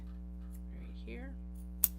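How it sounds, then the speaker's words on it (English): Scissors snip once, sharply and close, while trimming an overlong zipper for a Japanese fabric small box bag, over a steady electrical hum with a faint murmur of voice just before the cut. "In this case, the zipper is too long, so we're going to trim it down."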